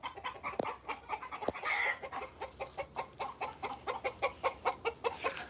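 A hen clucks after laying an egg, a rapid run of rhythmic, fairly close clucks rising in a steady chatter, with a couple of sharp knocks near the start.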